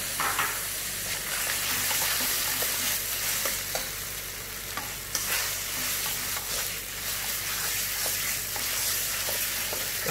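Meat stir-fry with lemongrass and kaffir lime leaves sizzles in a pan, a continuous crackling hiss broken by the scrape and clatter of stirring, fairly close, with no talking.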